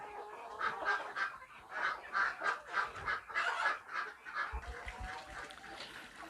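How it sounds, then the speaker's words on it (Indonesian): KUB-2 village chickens in a rearing pen cluck and squawk in a busy, overlapping chorus of repeated calls rising and falling close by, with a few low thumps near the end. "ini kandang pembesaran kita ya, jenis ayam KOB2 tentunya"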